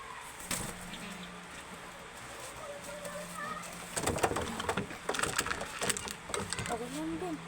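Racing pigeons coo nearby in low, rolling calls over a steady background hum, with a voice speaking and some clattering taking over partway through.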